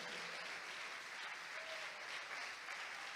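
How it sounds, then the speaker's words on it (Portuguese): A church congregation claps together in praise, a continuous, fairly faint spread of many hands with no clear talk over it, keeping an even level for the whole stretch. "Vamos aplaudir mais ao Senhor Jesus,"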